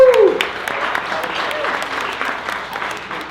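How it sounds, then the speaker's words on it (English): Event audience applauding at a community night, a dense burst of clapping that starts strong and holds steady, with a cheer and voices mixed in near the start. "One more round of applause for you people."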